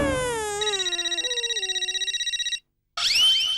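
A phone rings with an incoming call from Mehta in a household sitcom scene, a bright electronic ringtone with rapid pulsing tones that cuts off, then a short burst of voice follows.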